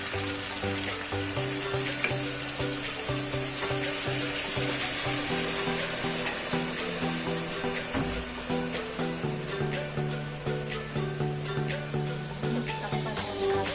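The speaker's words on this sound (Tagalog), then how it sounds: "Lagyan natin ng isang basong tubig." A glass of water is poured into chicken curry cooking in a pan, a steady splashing and sizzling wash that runs for several seconds at close range, with no talking.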